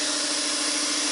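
A Harbor Freight oil evacuator vacuum pump, used to pull oil from a lawn mower engine, runs loudly and continuously throughout with a steady broadband hiss and hum.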